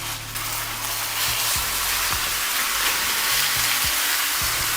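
Lamb keema mince frying in oil in a hot karahi over medium-high heat, a loud steady sizzle with a few soft stirring scrapes, close up.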